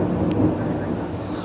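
Thunder from cloud-to-ground lightning during a violent thunderstorm, a loud low rumble that fills the whole short moment along with steady rain noise.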